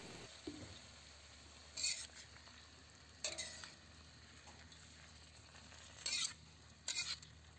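Soy sauce hits pancit bato noodles frying in a pan, bringing faint steady sizzling broken by four short scraping stirs of a utensil against the pan.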